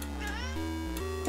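A cat meows in an Atari 8-bit homebrew game, a short, tonal electronic mewing call that glides in pitch over a droning chiptune background, with no talk.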